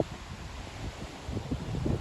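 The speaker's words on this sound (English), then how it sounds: "Oh, it's super windy." Strong gusty wind buffets the microphone outdoors, a continuous low rumble that swells in surges toward the end, with no voices.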